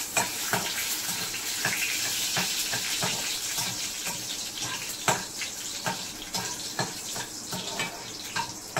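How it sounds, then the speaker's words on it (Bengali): Whole garam masala spices hit hot oil in a pan, giving a steady, hissing sizzle with small crackles and pops scattered throughout, close and continuous, with no voices. "তেল গরম হয়ে গেছে, এবার গোটা গরম মশলা ফোড়নে দিয়ে দিচ্ছি।"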